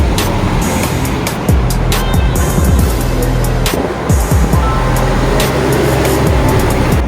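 A vehicle passes by on a road at night, its loud rumble swelling and fading over a steady background roar, with sharp clicks and knocks scattered throughout.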